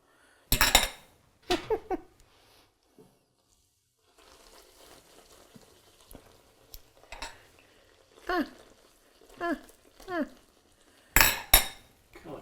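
Sharp metal clinks and jabs of a utensil against a pan hit a flour tortilla as it puffs while cooking, landing as scattered bursts over faint sizzling, with a voice talking briefly between them.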